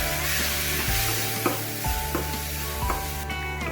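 Spices for mutton gravy masala sizzle loudly in a hot pan on low gas while a spoon scrapes and clinks through them in a steady stirring rhythm.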